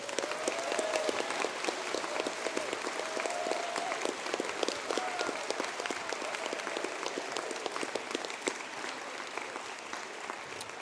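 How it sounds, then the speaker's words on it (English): Sustained applause from a large audience at a university conferring ceremony, steady dense clapping filling the whole stretch with no voices over it. "A round of applause, please."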